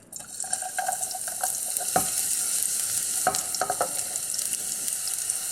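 Onions frying in sesame oil in a pan over high heat give a steady, bright sizzle with a few sharp clicks and scrapes as they are tossed.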